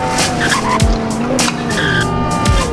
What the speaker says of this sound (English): let's try and drift it around here then